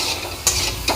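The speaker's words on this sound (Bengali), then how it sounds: "এটা ভালো করে নেড়ে নিচ্ছি" A spoon stirs spices frying in oil in a pan after turmeric and salt go in, a steady sizzle broken by two sharp scraping strokes against the metal.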